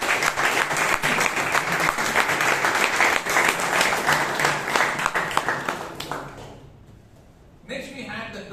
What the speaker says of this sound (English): please give Shreya a big round of applause